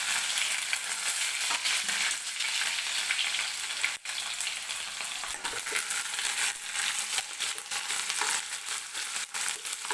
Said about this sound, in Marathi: तर कांदा हलकासा गोल्डन रंग येईपर्यंत आपल्याला भाजून घ्यायचा आहे तेलामध्ये.